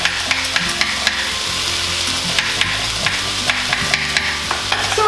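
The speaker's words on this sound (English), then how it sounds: "I like browning it a little bit to saute it and give it some flavor." Vegetables such as celery and carrots sautéing in a soup pot, a steady bright sizzle broken by repeated scraping and clinking of a spoon stirring, close and alone.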